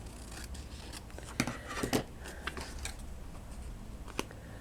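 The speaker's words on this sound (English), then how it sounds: "So I'm just going to trim that down a little bit more." Scissors snip paper for a shabby-chic craft plaque in a few quick, close, crisp cuts spaced irregularly against a quiet room.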